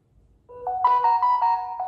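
A short phone message tone chimes as a lottery message server receives a text: a bright melodic ringtone of several rising and falling notes, clear and close, with no talking.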